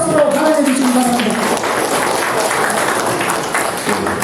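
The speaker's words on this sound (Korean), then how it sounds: "우리 정은식 강사님을 소개해 올립니다. 여러분 뜨거운 박수로 환영해 주시기 바랍니다" A lecture audience breaks into loud, sustained applause to welcome a guest lecturer, with a voice briefly audible at the start before the clapping carries on steadily.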